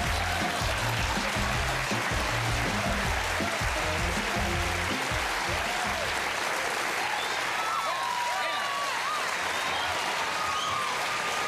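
A studio audience at a late-night talk show applauds and cheers loudly and without a break as a guest comes on, with a low rumbling layer underneath that fades after the midpoint while the clapping carries on.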